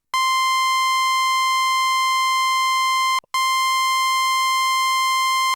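A steady, bright synth tone from a Roland System-8 or JP-08 Boutique emulating a Jupiter-8, holding for about three seconds, cutting out briefly, then sustaining again, loud and alone with no voices.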